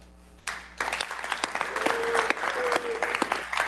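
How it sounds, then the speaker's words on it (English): Applause from a San Francisco demo day audience breaks out after a quiet moment and holds as a full, even clatter of many hands, with a voice briefly heard over it. "another round of applause for Gus"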